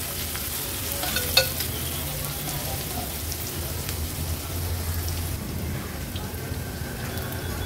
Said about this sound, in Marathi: आता आपण ह्याच्यात मीडियम साईजचा जो कांदा चिरून घेतलाय तो ऍड करूया।